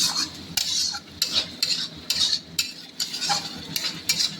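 Spice mixture with sugar being stirred in a kadai for a chhanar bora curry, a spoon scraping in short repeated strokes with a soft sizzle beneath, close and fairly loud, no voices.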